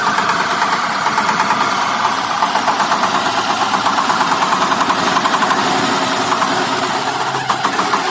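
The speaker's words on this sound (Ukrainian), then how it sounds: "Зараз на Новоград їде тракторець 240 з блокировкою диференціала" A Shifeng SF 240 tractor with a differential lock runs steadily at idle, its even mechanical chug and vibration close and loud throughout with no voices.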